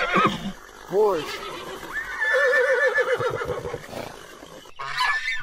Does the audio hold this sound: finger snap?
no